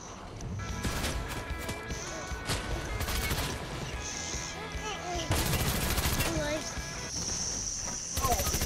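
Computer-controlled enemies firing in a squad shooter video game, dense bursts of automatic gunfire and rapid shots coming in waves, with players talking over the action.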